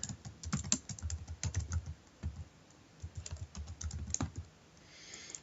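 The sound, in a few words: typing on a computer keyboard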